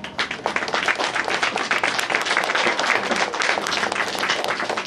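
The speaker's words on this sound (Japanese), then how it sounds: "皆さんの拍手でお答えください。" A live audience claps loudly and continuously for about five seconds as a vote at a beatbox battle event, dense applause with no pauses.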